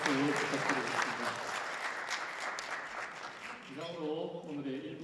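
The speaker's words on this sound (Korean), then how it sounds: "박수 부탁드리겠습니다." An audience at an international fire investigation conference applauds steadily for several seconds at a fairly low level, with a speaking voice at the start and another returning near the end.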